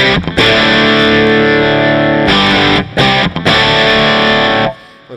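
A heavily distorted electric guitar plays through an amp rig with the graphic EQ taken out of the chain, loud sustained chords ringing with a few brief gaps between them before the last chord cuts off.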